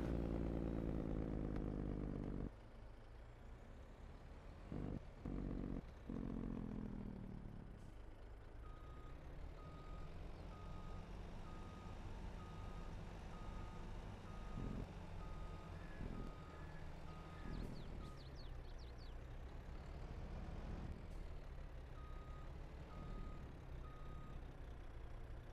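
A truck backs a trailer into a shed in a farming video game on a Saskatchewan map, with a steady low engine rumble under a regular, continuous reversing beep.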